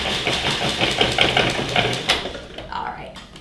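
Food processor pulsing walnut spinach pesto pâté, a steady motor whir with rhythmic chopping pulses that fade out toward the end, close and fairly loud.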